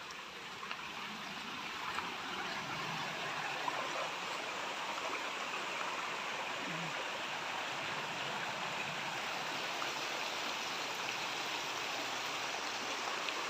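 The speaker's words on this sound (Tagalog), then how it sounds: "Ito po yung ilog." A river flows steadily along the edge of a farm property in Laguna, a constant broadband rush of moving water that stays even and fairly close throughout, with no voices over it.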